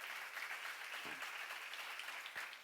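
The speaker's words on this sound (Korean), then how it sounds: "박수를 하세요." Audience applause during a church lecture on Isaiah: a faint, steady wash of clapping that holds evenly throughout.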